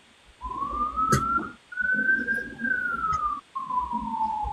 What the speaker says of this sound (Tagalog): Parang may ambulansya na dyan, Pearl.